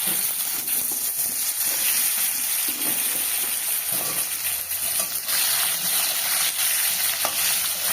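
Thin-sliced potatoes fry in oil with cumin and bay leaf, making a steady, fairly loud sizzle. Faint stirring scrapes run beneath the hiss throughout.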